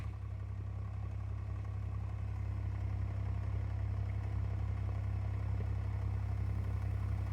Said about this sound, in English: it seems like the exhaust has a slightly better sound